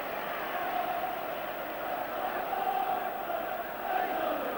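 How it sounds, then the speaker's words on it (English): Football stadium crowd at Everton versus Manchester United in a 1993 League Cup tie, applauding goalkeeper Schmeichel after a one-on-one save: a broad, steady wash of clapping and crowd noise sustained throughout without a break. "It's Schmeichel who came away with rich applause."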